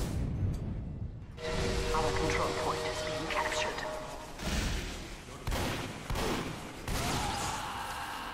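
Shotgun blasts in Team Fortress 2 gameplay: several sharp, loud bursts spaced irregularly across the clip amid game noise, with players talking over the action.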